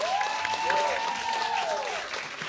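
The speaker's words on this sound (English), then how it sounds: "Let's give a round of applause to Sydney" A cabaret audience at Don't Tell Mama claps for a youth chorus organizer, a soft, even patter of applause with a whistle or whoop rising through it, moderately distant and fading slightly near the end.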